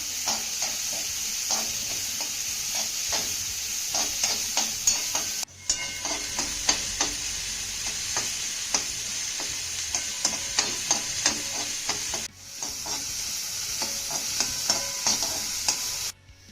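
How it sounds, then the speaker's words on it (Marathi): Chopped onion sautéing in a pan while a spatula stirs it, a steady close sizzle broken by frequent scraping clicks and two brief pauses, with no talking. "कांदा आपल्याला हलक्या सोनेरी रंगावरती परतून घ्यायचा आहे"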